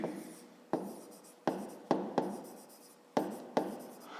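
Chalk or marker strokes on a board during a fifth-grade math lesson come as a series of about seven sharp taps, each trailing into a short scratchy scrawl, close and distinct, with no voice over them.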